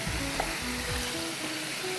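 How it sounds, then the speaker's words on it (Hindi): Chicken fries in hot oil with garlic and ginger, a close, steady sizzle with faint crackles and light stirring scrapes, no voices. "तेज डाल के हम चिकन फ्राई करेंगे।"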